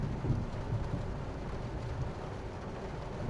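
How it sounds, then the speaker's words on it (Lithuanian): Heavy rain pours down while a rental car drives along a rough road in Albania, a steady dense hiss with a low rumble underneath, close and unbroken throughout. "Šiaip lietus labai įsibėgėjo."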